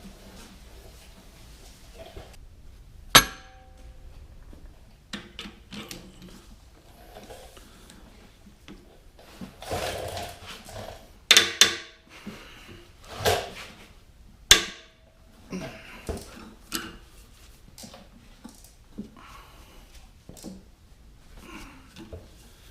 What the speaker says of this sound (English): I'm just using my cam over type stud remover to go ahead and pull them out